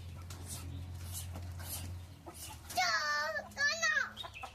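Chickens cluck and squawk in a short burst of sharp, rising calls near the end, following a stretch of low background hum with people talking.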